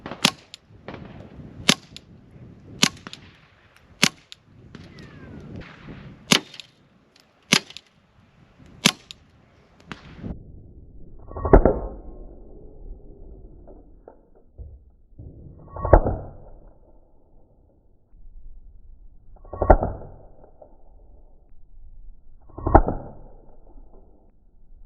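A Beretta 21A .22 LR pistol fitted with a SilencerCo Sparrow suppressor fires a run of sharp, muffled shots, first quick single cracks, then four spaced, heavier reports with short tails, with no talking.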